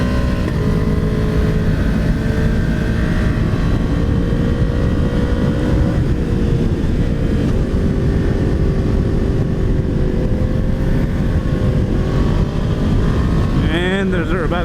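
Motorcycle ridden along a road by a rider in a tracksuit: steady, loud engine drone with shifting pitch, heavily buffeted by rushing wind noise throughout, with no clear speech.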